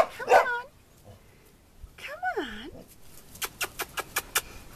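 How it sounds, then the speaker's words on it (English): Puppies give high whimpers and whiny yelps, followed by a quick run of short, sharp yips. "There's our pretty puppies."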